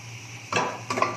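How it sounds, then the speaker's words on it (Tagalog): A metal lid goes onto a pot of lamb kaldereta, two or three clanking knocks as it settles on the rim, close and fairly sharp over a low kitchen hum. "Ayan, tatakpan na natin siya mga friends."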